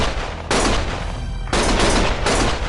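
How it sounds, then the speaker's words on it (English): Gunfire in the video game Lost Judgment: loud, dense bursts of shooting in two long stretches separated by brief lulls, close and sustained with no talking. "Stop shooting!"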